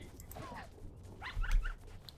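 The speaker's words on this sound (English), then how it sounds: "They bark." Dog pups in the video game Shelter give soft, brief yips and whimpers, faint and close, a few short calls over quiet background.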